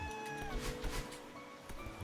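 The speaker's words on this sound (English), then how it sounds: "of course, there's our second cat" A cartoonish cat meows inside the Celeste Strawberry Jam video game, clear synthetic tones sliding over busy background game music and sound effects.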